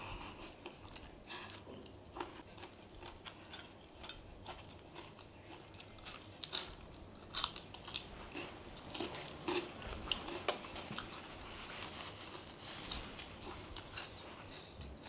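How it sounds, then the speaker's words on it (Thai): Someone eats Thai pounded long-bean salad with fresh shrimp: close, soft crunching and chewing with scattered clicks of cutlery, quiet overall with no talk. "กินเหมือนไม่ได้กินข้าวมา3 วัน"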